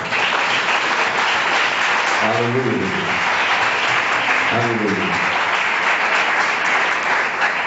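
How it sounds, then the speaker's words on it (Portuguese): A church congregation applauds steadily and loudly throughout, a dense wash of clapping, while a voice calls out twice over it. "Aplauda Jesus Cristo."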